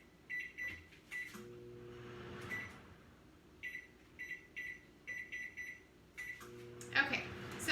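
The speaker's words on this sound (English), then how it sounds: "It's gonna go in the microwave on a turntable for 10 minutes." A microwave oven with a turntable: tonal chimes repeat in short bursts over a faint low hum, with a louder rattling clatter at the end and a voice briefly heard.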